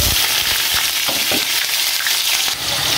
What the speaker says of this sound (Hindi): ऑयल गर्म हो चुका है, अब यहाँ पर प्याज ऐड।